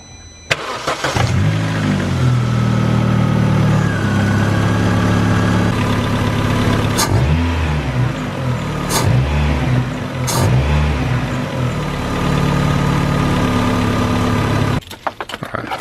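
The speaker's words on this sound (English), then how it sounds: "But I'll give it a few revs so you can have a listen." A Vauxhall Astra Mk4 fitted with a RamAir induction kit idles outdoors, then is revved several times, each sharp rise in engine note dropping back to idle, loud and close with no talking.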